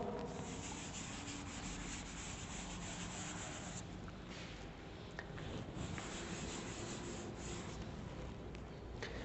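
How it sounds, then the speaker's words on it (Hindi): Marker or chalk scraping and rubbing across a board during a Hindi electrical engineering lecture on DC compound generators, a steady close scratchy texture running throughout with no voice. "चलिए मैं ऊपर लिख देता हूँ इसको"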